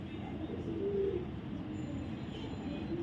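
Soft, low pigeon cooing repeats a few times against a quiet background hum.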